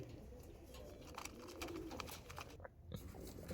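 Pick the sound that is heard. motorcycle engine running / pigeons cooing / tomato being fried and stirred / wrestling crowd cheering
pigeons cooing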